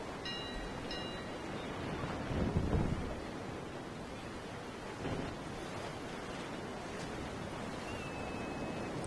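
In the naval combat game Naval Action, wind spills from a sailing ship's sails as a soft, steady rush of wind and sea noise, swelling briefly a couple of times.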